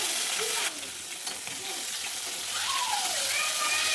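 Ban fish frying crisp in hot oil, a steady close sizzle with soft stirring scrapes and faint bubbling throughout.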